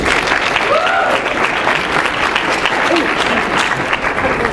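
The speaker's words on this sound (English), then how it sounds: "Could everyone give me a round of applause for Dr. Trowbridge?" A room full of people claps steadily and warmly, dense applause that holds at an even level throughout, with a brief murmur of voices beneath.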